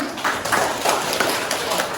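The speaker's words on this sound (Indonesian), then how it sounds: "Kasih besar-besar tepuk tangan dulu." A classroom of vocational school students claps together in a physics lesson, a steady dense patter of many hands with rhythmic surges, fairly close and continuous, with some voices mixed in.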